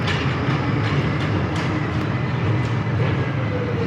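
A tram rolls past on the streets of Geneva's old town, a steady loud rumble with rail clatter filling the whole stretch, close by and with no talk over it.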